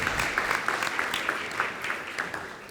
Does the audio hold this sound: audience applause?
yes